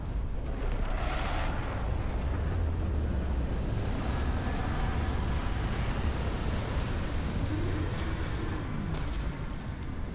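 A spaceship touches down for a landing in Starfield, heard as a steady, loud, broad engine roar and rumble that holds throughout, with faint higher whooshes on top.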